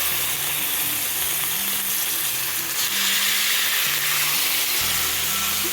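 Wagyu steaks sizzle steadily in a hot pan with juices, a loud, continuous close-up hiss and crackle that swells slightly partway through, with no talking.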